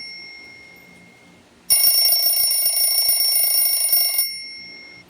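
An alarm ringing with a steady, bright electronic tone that starts abruptly partway through and holds for about two and a half seconds before cutting off, loud and close in an otherwise quiet room.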